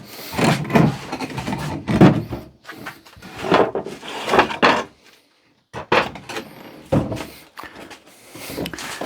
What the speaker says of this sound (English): we'll drag these two cupboards up onto the deck